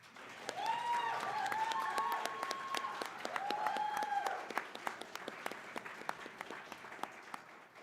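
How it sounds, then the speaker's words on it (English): An audience at a student awards ceremony for a games event applauds, with sharp individual claps over a soft crowd bed and a few whistles and cheers early on, fairly quiet and tapering toward the end. "So a big one last round of applause for all of them."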